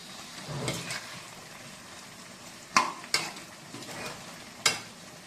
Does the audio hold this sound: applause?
no